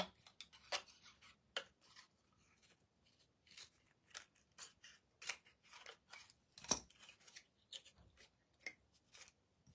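Scissors snip through material for a DIY wood kit, with a quiet series of short, close cuts at an uneven pace.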